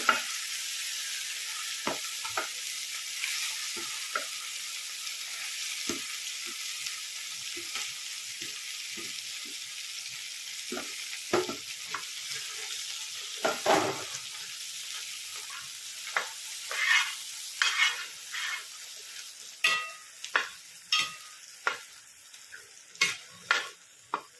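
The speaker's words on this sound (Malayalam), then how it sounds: "നെയ്യ് നന്നായി ചൂടായിട്ടുണ്ട്. അതിലേക്ക് നമുക്ക് ഇത് കുറേശ്ശെ ഇട്ട് ചെറുതായിട്ട് കടലയുടെ ഒരു പച്ച ചുവ മാറുന്നത് വരെ ഒന്ന് വഴറ്റിയെടുക്കാം." Chickpeas (kadala) fry in hot ghee for kadala pradhaman with a constant fine sizzle, while a spoon stirs and scrapes in irregular ticks that grow louder and more frequent toward the end; no voices.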